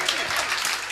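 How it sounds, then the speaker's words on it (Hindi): Audience applause at a Hindi comedy poetry event fills a brief moment, dense clapping close and steady throughout. "वाह तालियां बजनी चाहिए थी"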